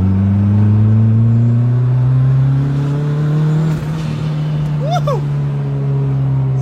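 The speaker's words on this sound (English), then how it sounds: "you guys hear that flutter? It sounds so good." Turbocharged car accelerating hard in second gear, a steady loud engine drone rising slowly in pitch with a brief chirpy flutter near the end; voices talk over it.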